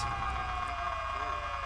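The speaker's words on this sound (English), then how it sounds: "You can hear the alarm going off." A police car siren wails on a roleplay video game server, loud and steady with a continuous electronic tone that fills the short stretch, heard on its own with no talk over it.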